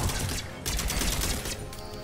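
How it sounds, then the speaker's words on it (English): A Shuriken SMG fires three-round bursts in the video game Mass Effect 3, producing rapid, loud, clustered shots in quick succession over a dense background of combat noise. "Oh, it's a three burst gun."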